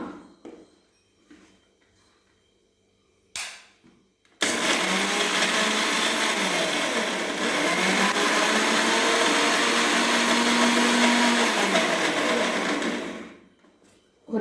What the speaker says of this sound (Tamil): நான் சின்ன மிக்சியில் அரைக்கிறேன்